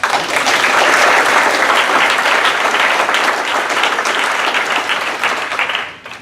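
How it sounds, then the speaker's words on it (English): An audience at a university event gives a full round of applause, loud dense clapping from many people that holds steady for several seconds and then tapers off toward the end. "I think we owe them a round of applause."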